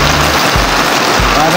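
Heavy rain pours down in a steady, dense hiss with no breaks, loud and close throughout.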